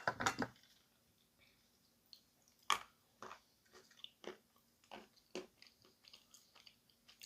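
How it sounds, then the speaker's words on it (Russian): Someone bites and chews edible chalky clay up close, with an opening crunchy bite followed by a string of separate crisp bites and soft crunching chews spaced a second or so apart in a quiet room. "При этом при разжевывании, откусывании глина такая немножко рыхловатая."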